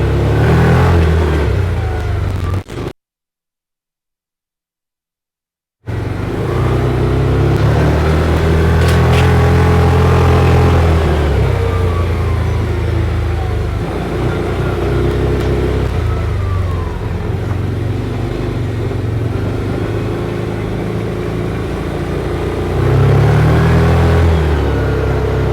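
A 2023 Vitacci Maximus 800 UTV with an 800cc fuel-injected engine drones loudly in high gear while rolling across flat land, its engine note rising and falling steadily, broken by one short silent gap.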